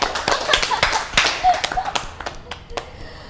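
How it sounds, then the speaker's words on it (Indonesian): A small audience at a talk show claps for guests, a short scattered burst of hand claps that fades out after a few seconds. "Tepuk tangan dong."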